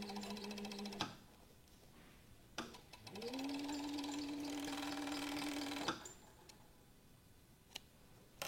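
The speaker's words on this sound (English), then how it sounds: "we'll just kind of go down as far as we sewed" A sewing machine stitches down a seam, running with a steady, quiet whir for a few seconds, with sharp mechanical clunks before and after the run.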